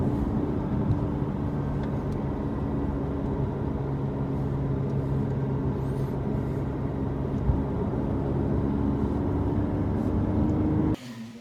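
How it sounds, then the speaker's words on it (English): A Porsche 992 GT3 sports car being driven on the road, heard as a steady, even drone of engine and road noise that cuts off abruptly at the end. "Let's go and enjoy the driving."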